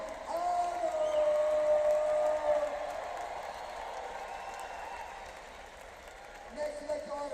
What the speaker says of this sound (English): Give a big round of applause for Sam Arnold!